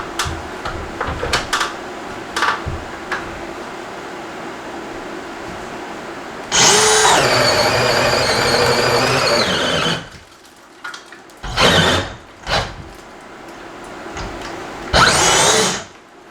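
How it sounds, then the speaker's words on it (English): A handheld power drill boring through building material in several bursts: a long sustained whining run, then shorter stop-start pulls with quiet gaps between, loud and close. "I'm actually going to drill it first before I cut it"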